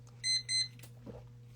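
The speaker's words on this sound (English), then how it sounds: "15-minute timer, drink your water" A 15-minute timer alarm gives two short, bright electronic beeps in quick succession, fairly close, followed by a quiet room.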